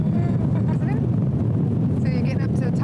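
An airliner's engines roar steadily during takeoff on a flight to Nice, a constant loud cabin rumble with faint voices underneath.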